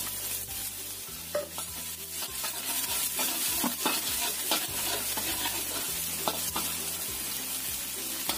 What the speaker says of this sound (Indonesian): Kita tumis dulu sampai terkumpul enak bawang putihnya ini.